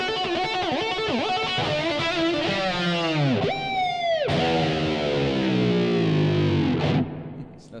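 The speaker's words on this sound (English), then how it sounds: "so I can do dive bombs with my expression pedal" Overdriven electric guitar through a Boss ME-80 with swooping expression-pedal pitch dives, notes bending sharply down and back up, loud and sustained with heavy distortion.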